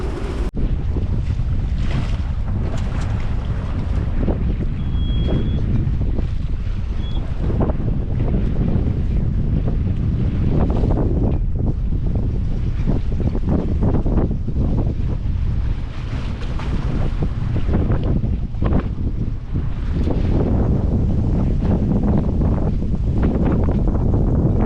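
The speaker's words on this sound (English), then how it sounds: "The strongest wind speed we got is 29 knots." Strong wind of around 29 knots roars across the microphone of a sailboat beating along the coast near Double Island Point, with steady loud gusting and waves washing against the hull throughout; no voices.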